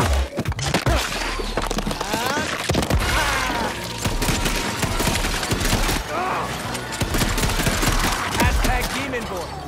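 Shotgun blasts in the demon-fighting game Shadow Warrior 3 crack in rapid, overlapping bursts amid splintering impacts and chaotic combat noise, loud and close, with a voice speaking over it.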